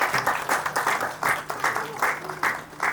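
Applause from an audience welcoming guests to the stage at an indoor health and food event, a steady burst of dense clapping with uneven swells, fairly loud and close, and no speech over it.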